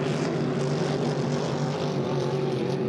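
A hydroplane racing boat in the H2 class roars through a race at St-Félicien, its engine a loud, steady, unbroken drone with a strong low hum throughout.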